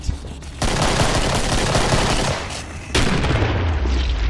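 Dense, loud gunfire in the Killing Floor shooter game, a continuous roar of rapid shots with a short lull before a second burst.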